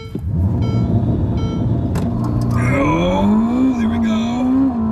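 A Ferrari accelerating hard on a street, a loud, close engine note rising steadily in pitch as revs climb through the gears, with a deep rumble underneath and a brief voice heard over it.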